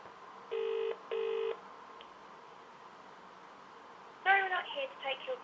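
Two steady beeping tones from a telephone keypad, then a pause and a burst of warbling electronic ringing or line tones, close and clear against a quiet background.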